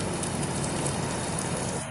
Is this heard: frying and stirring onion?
no